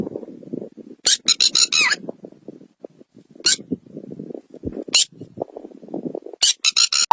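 A person mimicking the call of a red-wattled lapwing, with sharp bursts of shrill squawking cries in quick runs between murmuring voices, close and clear.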